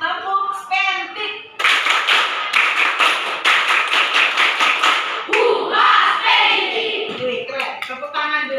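A classroom of students stands and performs a rhythmic clapping chant, with bursts of dense, patterned hand claps and voices chanting along, broken by short pauses and a teacher speaking at the start and end.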